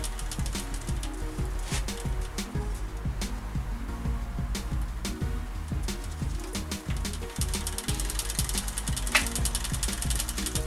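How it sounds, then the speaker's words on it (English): Bicycle chain rubbing and catching on the front derailleur of a Shimano 600 road bike during shifting, a steady mechanical ticking and clicking that runs the whole time with sharp, close metallic taps at irregular intervals. "Catching on the front derailleur again."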